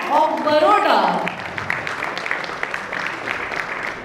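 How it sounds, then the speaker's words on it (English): Audience applause at a panel discussion on AI and automation in debt collection, a steady wash of clapping from a crowd that swells briefly and then carries on at an even level after a voice speaks over its opening moments. "Can we have a huge round of applause, everyone?"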